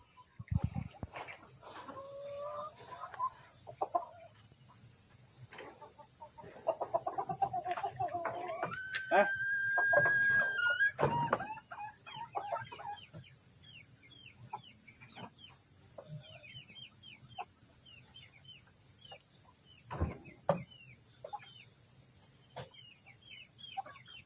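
Chickens cluck and a rooster calls nearby in a coop, short repeated clucks scattered among louder crowing bursts, with someone speaking at moments in between.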